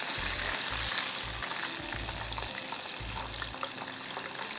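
Sesame chicken pieces coated in cornflour batter frying in hot oil, a steady close sizzle with bubbling crackle throughout and intermittent low thumps.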